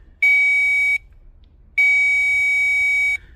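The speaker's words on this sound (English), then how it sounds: "If I turn on the speaker on my power probe, you should hear a beep" A power probe's speaker sounds two loud, steady electronic beeps, each under a second or more with a short gap between, while testing a grounded wire in a P0230 fuel pump control circuit.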